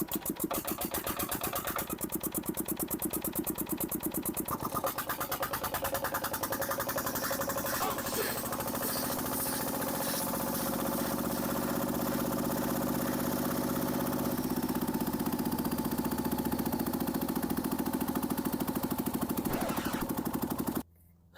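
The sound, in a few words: car engine with turbo revving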